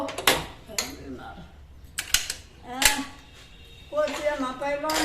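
A house door is unlocked and opened, with metallic clicks and rattles of the latch and bolt, a creak and a few clanks, while people talk over the sounds.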